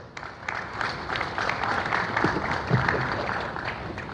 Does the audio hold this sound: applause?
yes